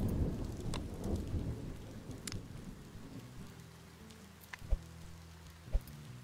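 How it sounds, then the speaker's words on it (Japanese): Heavy rain pours down with rolling thunder and several sharp, close thunder cracks near the end, loud and steady with no voices. "めっちゃ雨と雷の音めちゃくちゃ大きいよ"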